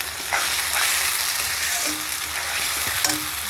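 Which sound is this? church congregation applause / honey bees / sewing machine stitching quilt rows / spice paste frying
spice paste frying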